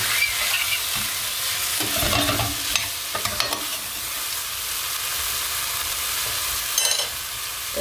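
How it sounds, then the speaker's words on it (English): Chicken pot pie filling sizzles steadily in a pan while a spoon stirs it, giving occasional scraping knocks and a brief clatter near the end, close and moderately loud with no speech. "Give that a little stir, let everything marry together."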